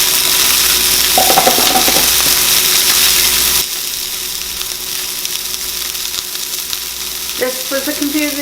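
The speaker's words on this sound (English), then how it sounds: "How long do you fry them?" Venison steaks frying in a pan with a steady, loud sizzle throughout, briefly broken by a few scraping stirs or utensil sounds near the start and end.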